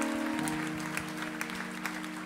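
A church congregation in Savigny-le-Temple claps steadily and densely, with scattered louder claps, while a low sustained tone hums underneath throughout.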